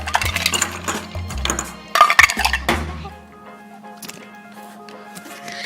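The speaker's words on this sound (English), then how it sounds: "I just want to top this up a little bit with ice." Ice tumbles into a cocktail glass over orange juice in a run of close, bright clinks and clatters, easing into a few scattered knocks and a low hum.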